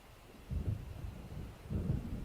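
Low rumbles of thunder from an approaching storm in the video game Alan Wake roll in two deep, muffled swells, distant and fairly quiet over a faint steady background.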